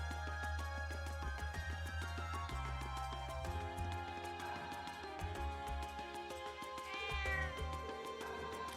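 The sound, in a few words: cat meowing in the video game Trails of Cold Steel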